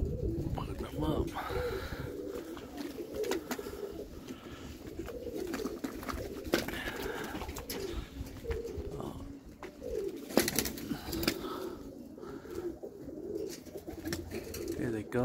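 Roller pigeons coo repeatedly nearby in low, rolling calls, with occasional rustles and wing flaps as they are released, while someone talks intermittently over them.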